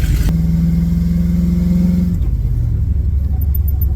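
A car engine idles through a homemade muffler with a deep, throaty exhaust rumble, briefly steady then dropping into a lower, uneven burble up close.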